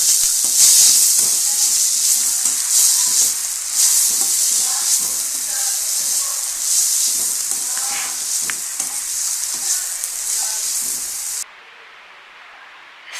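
Onion and tomato pieces fry in a hot pan with a loud, steady sizzle and occasional stirring clatter, cutting off abruptly near the end.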